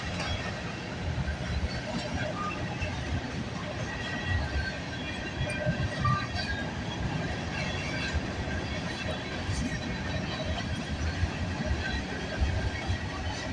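A long CN/CP freight train with many gondola cars rolls past in Milton, Ontario, a continuous rumble with steady wheel clatter and faint squeal, held at an even level throughout.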